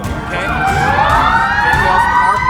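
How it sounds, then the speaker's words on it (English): Several emergency vehicle sirens wail loudly with overlapping rising and falling tones during a staged crash drill at Castro Valley High School, with a voice speaking briefly over them. "Those sirens are for you, man."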